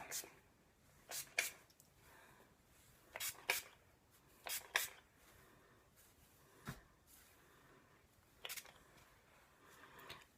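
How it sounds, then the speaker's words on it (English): Short hissing bursts of an aerosol hair spray gel repeat every second or two, quiet and close, with soft rustling between them. "little of this tousling spray gel"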